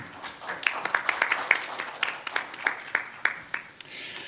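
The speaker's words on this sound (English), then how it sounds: "Please give him a round of applause." Conference audience in Seoul giving a round of applause, a thin, sparse patter of individual claps, fairly faint and distant, with no talk.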